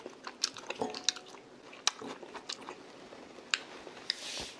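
Close, quiet chewing of a shrimp salad with oriental dressing, soft crunchy bites and wet squishy mouth sounds coming in irregular clicks.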